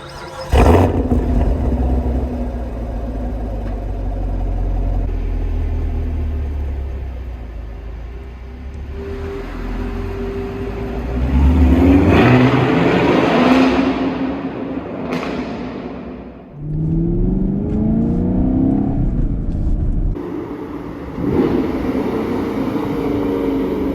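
A sixth-generation Chevrolet Camaro LT1 engine starts with a loud burst, then idles and revs up several times in rising roars, steady and close.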